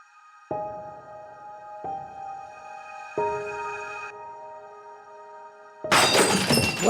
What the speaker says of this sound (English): I was awakened from my upstairs bedroom by the sound of glass breaking as if it was thrown against a wall